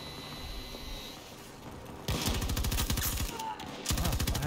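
Rapid automatic gunfire in a video game, firing at enemies trying to take a capture point, comes in two loud close bursts of fast rhythmic shots after a quieter stretch of background game noise.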